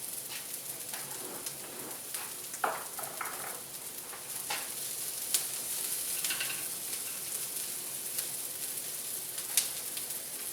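Pancetta reheating in a frying pan for a frittata gives a steady, soft sizzle with scattered crackles and pops, fairly close and with no voices.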